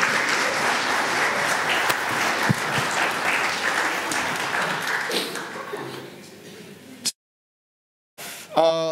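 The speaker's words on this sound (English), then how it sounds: "Please give my helpers all a bit of a round of applause." A church congregation at a Sunday service gives a round of applause for the helpers, sustained clapping for several seconds that fades out, followed by a brief silence and some shuffling noise.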